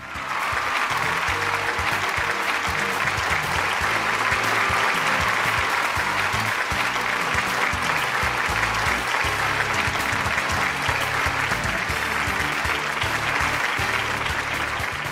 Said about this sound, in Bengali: আপনাদের করতালি চলতে থাকুক